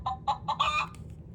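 A hen clucks in four or five quick, close bursts, the last ones running together into a short squawk, over faint low background noise.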